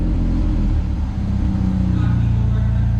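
A car engine revs with a loud, steady rumble across the whole stretch. It holds a low drone that rises slightly in pitch toward the end. The car is cold and gives off some exhaust smoke.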